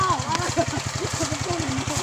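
Small engine of a rice threshing machine in a farm field, running with a steady low throbbing pulse, a rapid even rhythm throughout, with people talking over it.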